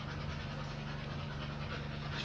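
A puppy panting in quick, steady breaths, close and faint, continuous throughout with no talk.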